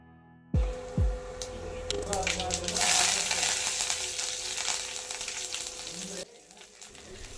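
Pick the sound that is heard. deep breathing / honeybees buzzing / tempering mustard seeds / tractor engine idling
tempering mustard seeds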